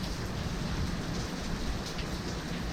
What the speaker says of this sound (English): it's been raining pretty hard